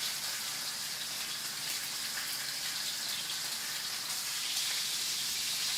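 A porterhouse steak sears in a hot pan with a continuous, even hiss and sizzle that holds steady throughout, with no voices over it.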